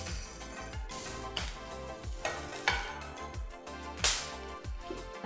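Crackling sizzle of curry leaves, chilies and garlic frying in a pan with repeated stirring and tossing scrapes, a busy close-up texture with occasional sharper spits.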